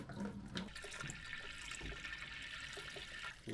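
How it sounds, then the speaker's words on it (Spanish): Water poured into a small betta fish aquarium, a soft, continuous gurgling trickle with a few faint clunks, fairly quiet and with no talking. "lo que vamos a hacer es echar agua"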